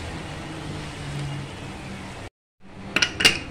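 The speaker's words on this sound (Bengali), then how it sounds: "ঢাকনাটা লাগিয়ে দিলাম" A metal lid goes onto a cooking pot of French beans and potatoes with two or three quick clinks after a brief silence, following steady kitchen sizzle and hiss.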